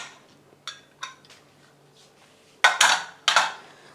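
Metal pressure cooker lid being opened after releasing pressure while making aloo tahari, with a few soft clinks followed by two loud, close metallic clanks and scrapes near the end.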